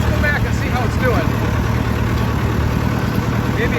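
A Massey Ferguson 285 tractor with hot steering lines idles with a steady, close, low rumbling throb that holds even throughout, with faint talk beneath.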